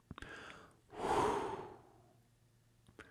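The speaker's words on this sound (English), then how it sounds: "Take a breath and let it out." One slow breath taken in and let out close up, a soft airy whoosh that swells and fades, framed by a few faint clicks.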